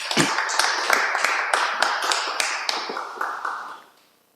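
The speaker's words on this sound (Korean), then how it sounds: "우리 하나님께 영광의 박수 올려드리겠습니다." A church congregation claps together in a burst of quick, sharp, fairly close hand claps that runs for several seconds and then fades out.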